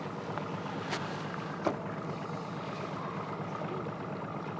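Outboard motor on a fishing boat idling slowly across Watts Bar Lake, Tennessee, a steady low drone with water lapping and a few faint knocks, heard up close and alone.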